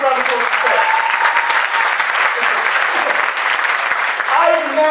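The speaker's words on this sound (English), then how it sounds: "Big round of applause for Steph." Conference audience giving loud, dense applause that fills the room continuously, with a voice briefly heard near the end.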